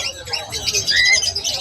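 Lovebirds in a cage giving rapid high-pitched chirps and tweets, close and lively, overlapping calls with no speech.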